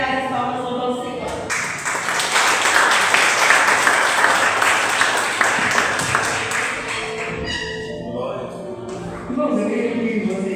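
A church congregation claps together in praise during an evening worship service, a dense sustained burst of applause that fades after several seconds as a voice and organ-like tones return.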